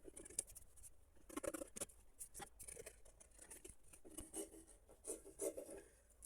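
Quiet, close scratchy rasping and snipping as fabric is cut, with irregular soft crunches and rustles throughout.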